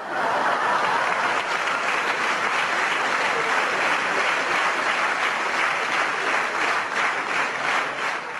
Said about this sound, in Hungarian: 1985-ben tapsolt a rádiókabaré közönsége Schubert Évának, Tábori Nórának és Csala Zsu